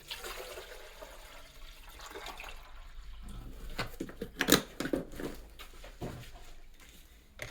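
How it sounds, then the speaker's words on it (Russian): Clean water is poured into the water tank of a De'Longhi Perfecta coffee machine during descaling, heard as a soft, close, steady trickle and splash that swells and then tapers off, with some clunks. "Заливаю чистую воду."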